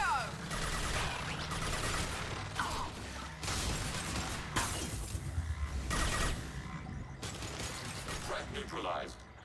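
Weapon fire in the game Mass Effect 2 arrives in bursts of gunshots and mechanical clanks among busy combat noise, with voices calling out between them.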